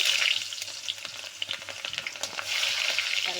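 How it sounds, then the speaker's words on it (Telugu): Onions, cumin seeds and dried red chillies fry in hot oil for a Kadapa-style Rayalaseema fish curry, giving a steady close sizzle with scattered pops and crackles and a brief quieter dip in the middle. "టమాటా, ఇవన్నీ బాగా వేగాలండి."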